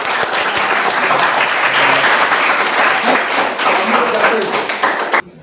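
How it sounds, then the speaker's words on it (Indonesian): Applause for a student group in a Balinese-language class, dense clapping from a roomful of people that runs steadily for about five seconds and then stops abruptly. "Tepuk tangan."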